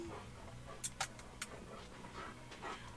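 Close by, a dog pants quietly with a few soft whimpers, very faint and intermittent, in an otherwise quiet room.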